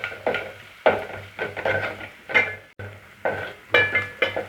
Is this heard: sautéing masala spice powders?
yes